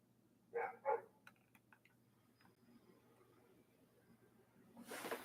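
Dogs barking at home, two quick loud barks near the start followed by a few fainter, scattered yips and clicks, then a burst of noise at the end.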